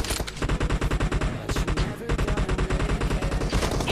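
Rapid automatic gunfire from the PUBG Mobile video game in a solo-versus-squad team deathmatch with a Kar98 rifle: dense, loud bursts of shots rattling almost continuously, with only a brief break near the middle.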